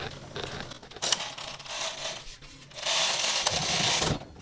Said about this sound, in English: Now we are ready to move the carriage to the right.